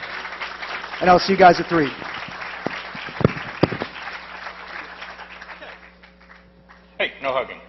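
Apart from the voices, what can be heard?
audience applause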